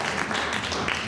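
Audience applause: a brief burst of steady, fairly soft clapping from a crowd of many hands, dense and even throughout.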